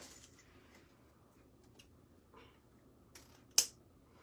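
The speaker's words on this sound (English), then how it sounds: "I'm gonna go ahead and snip that off" A single sharp scissor snip through ribbon while making a lake-themed wreath, a close crisp cut after a few faint rustles in an otherwise quiet room.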